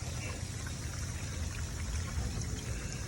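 Water draining out of an RV holding tank during dumping, a steady, unbroken rushing pour that fills the whole stretch at an even level with no pauses.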